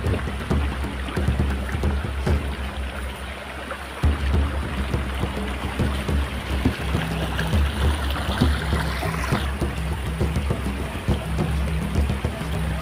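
River water flows steadily past a forest track, a constant close rushing and trickling wash that runs through the whole stretch without any talk.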